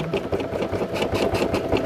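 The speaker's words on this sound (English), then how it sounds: "It makes noise on the deck of the sewing machine." A Brother SE1900 embroidery machine stitches a hat, its needle hammering in a fast, steady rhythm while the bent sticky backing rattles against the sewing deck, loud and close with no talk.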